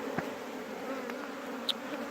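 Bees swarm and drone around queenless hives relocated out to the country, a steady close buzzing hum that fills the whole moment with a few individual insects zipping past the ear.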